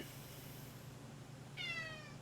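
A single short cat meow rises near the end of an otherwise quiet indoor stretch, close and moderately loud over a steady low hum.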